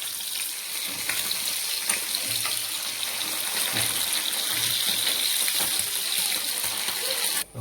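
Fish frying steadily in hot oil in a pan, a dense, continuous sizzle with faint crackles and occasional clinks, close and even throughout before cutting off at the end.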